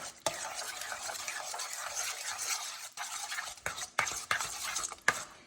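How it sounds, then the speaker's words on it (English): Stirring undrained Rotel diced tomatoes, juice and all, into a Mexican chicken casserole mixture: a steady close-up scraping and sloshing of the spoon, with a few sharper clinks against the dish toward the end. "And then we're just going to stir this together."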